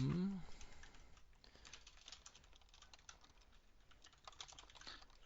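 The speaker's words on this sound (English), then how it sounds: "Let me grab my keyboard." Rapid, uneven clatter of typing on a computer keyboard, close and fairly quiet, continuing for several seconds with a brief pause partway through.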